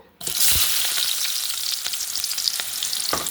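Sliced onions hit leftover paneer frying oil with a sudden loud sizzle that keeps up a steady crackling hiss, broken by a few sharp spatters and stirring clicks.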